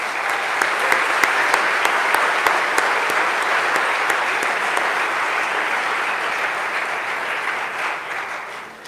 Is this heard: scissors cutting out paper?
no